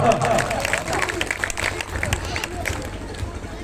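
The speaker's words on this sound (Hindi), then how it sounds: "तालियों के साथ उनको स्वागत कीजिए उनका" An audience claps to welcome Rakesh sir at a small event, a brief burst of applause and crowd murmur that thins out as people keep chattering.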